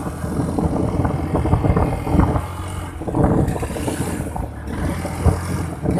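A carbureted Honda Beat scooter engine that starts hard and stutters under mid and high throttle revs unevenly with rough surging bursts and dips, loud and close, with some wind buffeting on the microphone.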